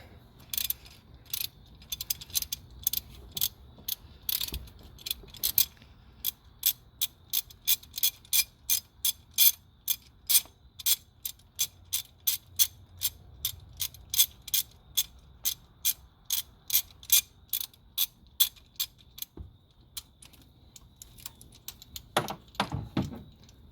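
A ratchet wrench with a spark plug socket loosens a spark plug on a supercharged 2007 GMC Yukon, giving a long, steady run of sharp, close clicks followed by a brief scrape near the end.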